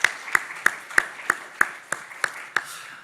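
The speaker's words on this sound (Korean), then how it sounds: "우리 다시 일하실 분들을 위해서 우리 박수 한번 좀 격려의 박수 부탁드리겠습니다" A church congregation at a Korean Sunday worship service claps in encouragement: about nine crisp, evenly spaced claps in a steady rhythm, fairly faint and sounding like a few hands in a hall.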